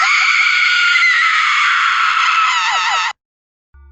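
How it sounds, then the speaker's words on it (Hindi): A woman's terrible, drawn-out scream rings loud and shrill for about three seconds as an audio drama sound effect, then cuts off abruptly into silence. "इसके साथ वातावरण में गूंज रही थी एक स्त्री की भयानक चीख"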